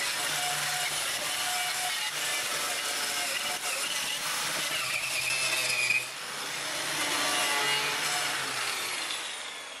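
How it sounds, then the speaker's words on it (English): A wire wheel grinds surface rust off the engine bay of a Saab 900, a steady abrasive whirring roar with a brief high squeal near the middle, continuous and close with no talking. "take my wire wheel and grind all of the surface rust away"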